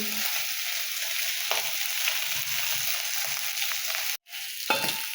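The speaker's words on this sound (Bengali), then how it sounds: "তোমরা কড়াই যখন এইভাবে ভেজে নেবে একটু দূরে সরে থাকবে।" Poultry skin fries in oil in a kadai, giving a steady, close crackling sizzle that cuts out briefly near the end before resuming.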